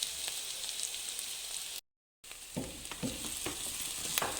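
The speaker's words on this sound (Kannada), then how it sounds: "ಹೀಗೆ ಫ್ರೈ ಮಾಡ್ಕೋಬೇಕು." Onion and curry leaves fry in a pan for egg bhurji, a soft steady sizzling hiss with light stirring taps, broken by a short moment of silence before the frying resumes.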